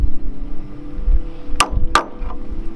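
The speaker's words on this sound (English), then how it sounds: "I got a chisel and a hammer, just on the joints like that." A hammer strikes a chisel against the leg joints of a fallow deer carcass during a hunt, giving two sharp, loud cracking blows about a third of a second apart, then a fainter third knock, with no talk.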